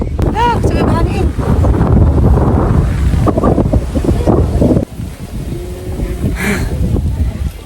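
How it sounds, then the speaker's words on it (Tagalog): Strong wind buffets the microphone with loud, continuous roaring gusts, with a voice speaking briefly underneath. "Sige mahangin."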